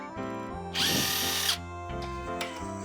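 Power drill driving out the engine bearing cap bolts, a steady close whine with one loud high burst of rattling in the middle, alone without talk.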